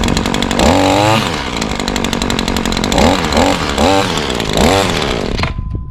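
A small engine on commercial lawncare equipment idles, then revs briefly several times, with its rising and falling pitch sounding close and loud before it cuts off at the end.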